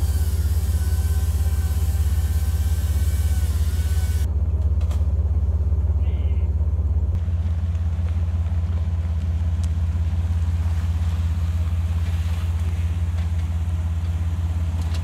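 A Jeep TJ engine runs loud and steady with low rumble throughout as it drives over a log on an off-road overland trip, with a voice speaking over it.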